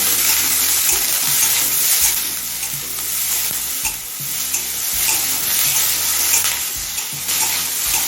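Potatoes, sliced onions and green chillies frying in a pan, a loud continuous sizzle with intermittent stirring scrapes, close up, no speech.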